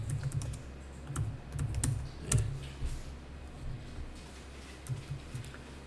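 Typing on a computer keyboard and pressing the enter key give irregular clusters of close, crisp key clicks with short pauses and a few louder strikes, all without talk.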